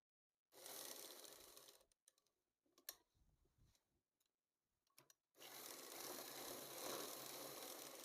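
A sewing machine stitches the side pocket of a nighty in two loud, steady runs, with a pause between them filled by faint handling of the fabric and clicks.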